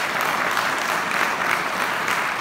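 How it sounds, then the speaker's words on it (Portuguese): A church congregation applauds in a short, even burst of many hands clapping together, moderately loud and continuous, with no one speaking over it. "Aplaudir o Senhor."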